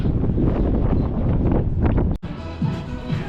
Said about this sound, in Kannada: ವಿಂಡಿ ನೋಡಿ ಎಷ್ಟು ಗಾಳಿ ಬೀಸ್ತೈತೆ ಯಪ್ಪ